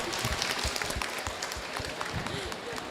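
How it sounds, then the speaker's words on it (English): Scattered clapping and crowd noise fill the room, with voices talking and calling out over the applause throughout. "Can we have a big round of applause, please?"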